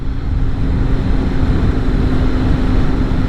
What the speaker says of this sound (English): So no shortage of power there from this 750cc parallel twin.